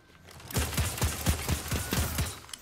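Rapid gunfire in the Destiny 2 PvP Crucible match Contingency Plan, a burst of about eight evenly spaced sharp shots ending in a headshot, loud and close with no talking.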